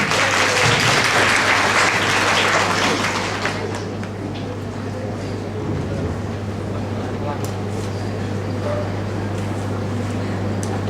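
An audience at a university speech competition bursts into loud, dense applause that fades after a few seconds into scattered clapping over a steady low hum of the hall, with a voice speaking over it.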